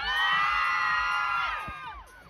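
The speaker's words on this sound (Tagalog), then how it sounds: "Isang malakas na hiyawan naman dyan!" Festival crowd at the Panagbenga Festival concert screams and cheers loudly in one sustained wave of shrill, high voices that swells, holds, then fades away near the end.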